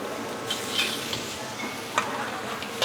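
Nasi goreng kampung with shredded chicken, cabbage and greens being stir-fried in a pan in a busy restaurant kitchen: a steady sizzle with a few sharp scraping clinks of the spatula, close and moderately loud.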